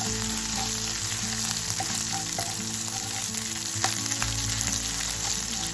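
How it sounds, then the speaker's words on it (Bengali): Crushed ginger frying lightly in a pan with spices, a steady close sizzle with small pops and crackles throughout, no talking. "আদা থেতো করা, খুব একটা ভাজবো না, সামান্য একটু ভাজবো।"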